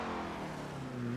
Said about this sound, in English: A cool thing you can do is start the engine and rev the car,